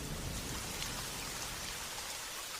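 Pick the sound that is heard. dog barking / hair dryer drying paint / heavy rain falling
heavy rain falling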